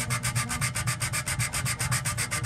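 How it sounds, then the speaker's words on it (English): Wet-dry sandpaper wrapped around a small piece of wood rubs back and forth across acrylic, giving a steady, rhythmic scratchy sanding with about eight strokes a second, close up and unaccompanied. "I've got a small piece of wood, I've got the sandpaper around the end of it"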